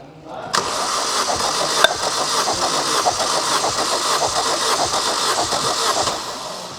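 Vauxhall VXR engine cranked on the starter for a compression test, a fast, even chugging churn that runs without pause for several seconds, close and steady, with a brief click near the start.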